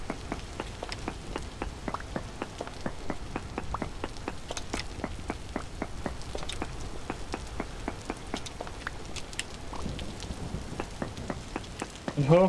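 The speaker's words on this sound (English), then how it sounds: "hopefully we get into this stone enough that we don't hear the rain as loud as it is" Steady video-game rain patters continuously, with dense scattered drops striking surfaces at a moderate level and no other sounds over it.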